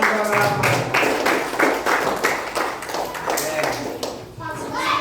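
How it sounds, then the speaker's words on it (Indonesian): Children in a classroom clap for a robot during a navigation lesson, a brisk burst of uneven hand claps with some bright taps and thumps, close by and sustained, with young voices mixed in. "tepuk tangan untuk robot"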